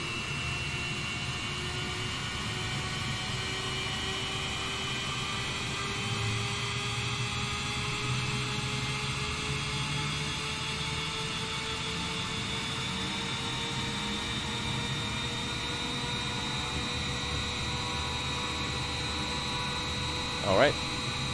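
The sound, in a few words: Boeing 787-10 jet engine running in Microsoft Flight Simulator video game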